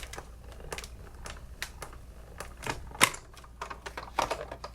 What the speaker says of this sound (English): this is a 3D embossing folder. So we're going to run this through.